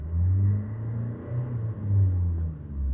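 A Renault Trafic van engine with a NOx sensor fault is revved, giving a deep, steady rumble that swells and eases, close and loud without talk.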